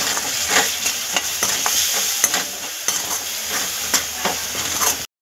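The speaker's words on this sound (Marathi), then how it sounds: "आता हे मसाले आपण तेलामध्ये व्यवस्थित परतून घेणार आहे 2 मिनिटं" Masala and spices sauté in oil in a pan for a dhaba-style mutton dish, a loud, close, continuous sizzle with the regular scrape and clatter of stirring, cut off abruptly at the end.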